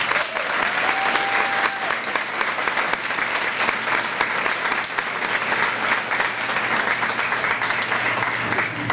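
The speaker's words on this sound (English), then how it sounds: "One more round of applause for all of our honorees." An audience at a senior honors recognition program applauds its honorees, a steady dense clapping that holds evenly at moderate loudness from start to finish.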